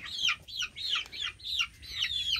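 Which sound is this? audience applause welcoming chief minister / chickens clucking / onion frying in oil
chickens clucking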